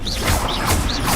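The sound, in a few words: Confringo blasting spell in Hogwarts Legacy video game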